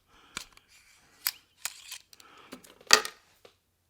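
Scissors cutting larger gun-cleaning patches into smaller squares while cleaning a Ruger Mark IV pistol: about five sharp, close snips spaced across a few seconds, the loudest near the end, with no talk.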